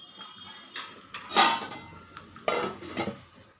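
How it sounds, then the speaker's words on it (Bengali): A metal lid clatters and clinks onto a pot of simmering flat beans in a home kitchen, with a few close, sharp knocks and scrapes of metal against metal and no talk. "আমি একটু ঢাকা দিয়ে ফুটতে দেব।"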